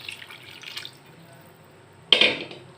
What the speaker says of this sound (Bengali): আলু সিদ্ধ হওয়ার জন্য যতটুকু পানি প্রয়োজন ততটুকু পানি দিয়ে দিচ্ছি।